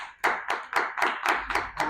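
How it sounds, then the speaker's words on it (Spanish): Congregation clapping at a church service, about seven even, loud claps in a steady rhythm, close by and with no talk over them. "Aplauso al Señor Dios Todopoderoso."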